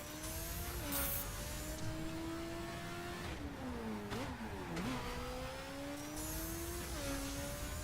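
A Kawasaki Z1000 motorcycle drives in The Crew video game, a steady engine drone whose pitch rises and falls through gear changes and dips, with no talking.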